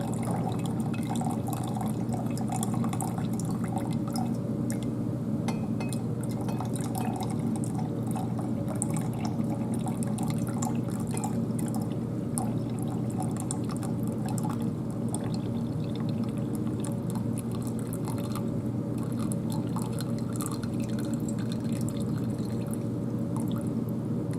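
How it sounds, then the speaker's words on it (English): Supernatant liquid being poured off a copper reaction mixture, a continuous trickling and splashing pour that holds steady throughout, fairly close and alone with no talking. "as much of this supernatant as I can without pouring off the copper"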